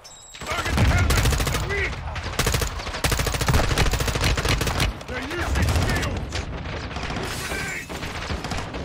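Dense automatic gunfire rattles from a Call of Duty: Modern Warfare 2 cartel protection campaign mission. Loud, rapid bursts of machine-gun and rifle fire overlap continuously with booming impacts, and faint voices sit beneath the shooting.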